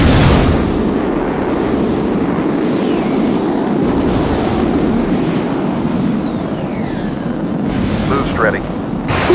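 Missile explosions and combat rumble from the jet fighter video game Sky Gamblers: Afterburner, a dense continuous roar of blasts and engine noise with voice callouts mixed in, loud throughout.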